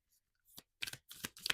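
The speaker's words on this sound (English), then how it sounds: "I'll give it a little shuffle this way." Bene Gesserit tarot cards from a Dune-themed deck being shuffled by hand, a few separate riffling bursts of stiff, slightly rough card flicks, close and clear with no talking.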